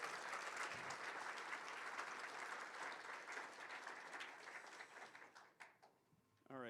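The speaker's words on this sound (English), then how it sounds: "Let's give a round of applause for Gabby Langston." At a data conference's opening session, an audience applauds in a full, sustained round that thins and dies away near the end, where a speaker starts talking.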